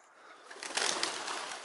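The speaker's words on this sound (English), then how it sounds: "I didn't realise there were so many pigeons here" Pigeons gather at an outdoor feeding spot, a faint soft flurry of cooing and fluttering that swells briefly and stays low, with no talking.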